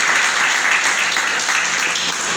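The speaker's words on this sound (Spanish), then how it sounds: "Denle un aplauso a Jesucristo." A church congregation claps together in loud, sustained applause during a Bible sermon, a dense even wash of many hands filling the room for a couple of seconds.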